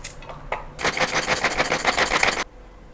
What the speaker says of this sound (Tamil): வெங்காயம் சாப் பண்ணிக்கலாம்.